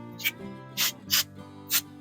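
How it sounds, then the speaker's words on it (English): Four short hissing bursts of cooking spray from an aerosol can, close up, with a faint hum underneath, in an RV kitchen. "we use some cooking spray and lightly spray"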